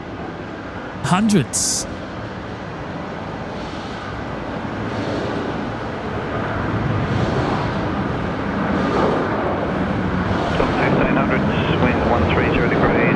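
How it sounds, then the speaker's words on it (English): An Airbus A220 arriving at Brisbane Airport on a night approach from Melbourne, a steady broadband jet rumble that slowly swells in loudness, with people talking over it and a brief sharp noise near the start. "closely following behind is the green A220, the broccoli coming in from Melbourne as well"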